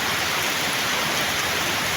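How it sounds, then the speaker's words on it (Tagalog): Heavy continuous rain pours in Doña Remedios, a steady, loud, unbroken hiss of water with no gaps. "Walang tigil ang pag-ulan dito sa Doña Remedios mga karonda."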